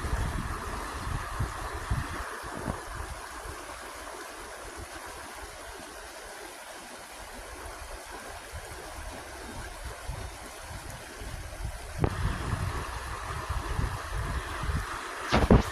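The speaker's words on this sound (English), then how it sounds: "a little bit of whitewater as the water hit the rocks over here. This is the Perkiomen Creek flowing down." Whitewater of Perkiomen Creek at Lenape Park in Schwenksville, Pennsylvania, rushing over rocks: a steady, broadband rush of flowing water close by, continuous throughout with a slight surge near the end and no talking.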